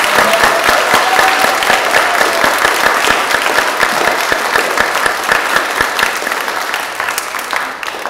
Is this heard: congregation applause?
yes